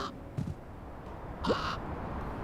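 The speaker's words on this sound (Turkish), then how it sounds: "Karga geldi." A crow in the video game Little Kitty, Big City gives a short, clear caw midway through an otherwise quiet stretch, with a faint earlier blip.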